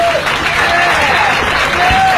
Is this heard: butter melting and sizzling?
no